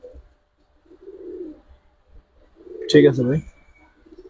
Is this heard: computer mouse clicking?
no